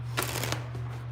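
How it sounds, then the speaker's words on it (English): Tarot cards are shuffled in a short, close, rustling burst followed by quieter flicks over a low steady hum. "2 more shuffles."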